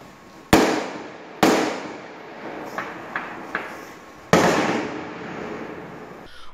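Explosions set off by robbers attacking a cash-transport company in Ribeirão Preto at night: three loud, sharp blasts with long rumbling decays, interspersed with a few smaller distant pops, heard from afar with no talk.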